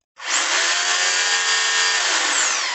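A rotary hammer drill in hammer mode starts abruptly and runs loud and continuous with a harsh, buzzing hammering tone before winding down slightly at the end.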